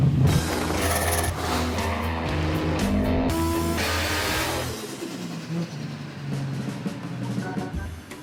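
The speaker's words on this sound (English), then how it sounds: "doesn't love the sound of motorsport in the morning?" Motorsport car engines roar steadily at close range, with sustained loud mid-to-low engine drone and shifting revving tones that ease off partway through before building again.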